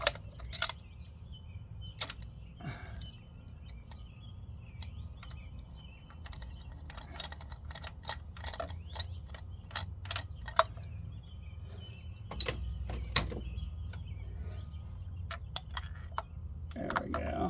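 A socket wrench works a spark plug loose from an engine, a series of sharp ratcheting clicks and metallic taps in irregular bursts over a low steady hum, close and fairly quiet.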